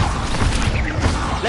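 Accio spell effect from a Hogwarts wizard video game, a short burst of magical whooshing and crashing texture lasting about a second and a half, fairly loud with no talk.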